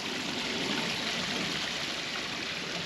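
Steady trickling and splashing of water in an outdoor model village with mountain views, a continuous close hiss that stays even throughout with no voices.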